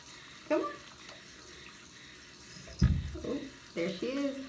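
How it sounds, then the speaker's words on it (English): Running tap water trickles steadily while a cat drinks from the stream, joined by a few soft bumps and brief vocal sounds from a person nearby. "my cat is literally right here, and she's drinking out of the water."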